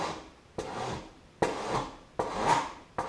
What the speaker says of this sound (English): I'm simply going to take a file and just start filing that down